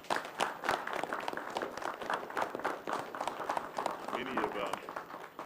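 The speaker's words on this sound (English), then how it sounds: "let's give them a round of applause" Room of attendees at a county board of commissioners meeting claps in a round of applause for county employees and officials, a dense steady patter of many hands lasting several seconds with murmured voices underneath.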